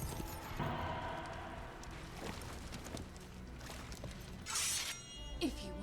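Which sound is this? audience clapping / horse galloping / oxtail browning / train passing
horse galloping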